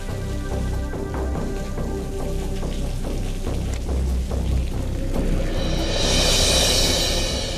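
Steady rain pattering on a surface, with dense drops throughout and a brighter splashing surge toward the end.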